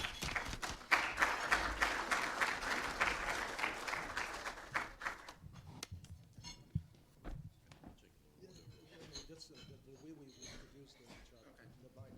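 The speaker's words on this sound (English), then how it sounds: "Let's welcome the 5 experts with a warm round of applause." At a VIP luncheon panel, the audience claps for about five seconds to welcome the experts, then the applause fades into quieter room noise with scattered knocks and a voice speaking.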